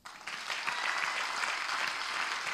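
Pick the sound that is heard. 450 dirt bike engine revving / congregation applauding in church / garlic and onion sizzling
congregation applauding in church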